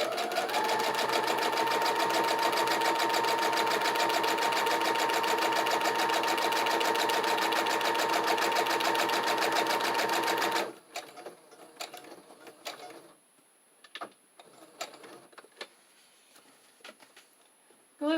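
A sewing machine stitches a file folder cover onto a junk journal, running in a steady, loud, continuous whir for about ten seconds, then stopping, leaving faint clicks and handling noises.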